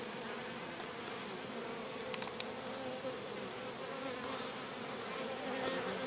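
Honeybees and drones hum in a steady, dense buzz around a hive, close and continuous, with a few brief louder passes of single bees flying near.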